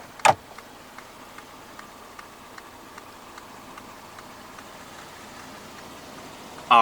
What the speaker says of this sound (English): All of the windows in this car are powered, and all of them do have a full automatic function in both directions